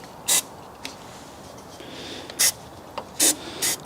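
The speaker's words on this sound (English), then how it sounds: "I'm just going to apply a small amount of silicone spray to this pipe here," Several short, hissing spray bursts from an aerosol can of silicone spray applied to a coolant pipe on a BMW N62 engine, spaced irregularly, close by in an otherwise quiet space.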